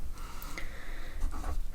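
An algebra equation is written out on a board, with faint, scratchy strokes in a few short bursts against a quiet room and no voices.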